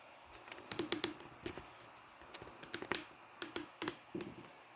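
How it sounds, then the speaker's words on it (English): Computer keyboard typing a ping command: a brief, quiet run of irregular key clicks in small bursts with short pauses, close and alone. "now we're going to type again the command ping"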